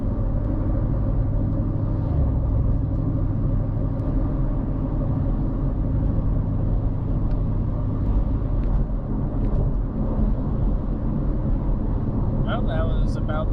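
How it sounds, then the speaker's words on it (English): A 2017 Ford Mustang GT cruising at about 55 mph, with a steady low road and engine rumble and tire noise throughout, carrying a roof cargo carrier; a voice talks over the drone. "now I'm cruising down the road about 55 miles an hour"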